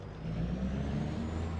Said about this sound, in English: the sounds are pretty good on this truck